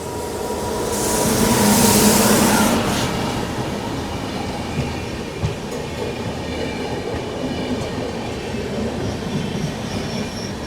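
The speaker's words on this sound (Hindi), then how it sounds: "ये बगल से क्रॉस हो रही केरला एक्सप्रेस" The Kerala Express passes on the adjacent track near Rani Kamlapati station in Bhopal, heard from aboard another train. A heavy rolling rumble with wheel squeal and clickety-clack swells early on, then settles into a steady, continuous rail noise.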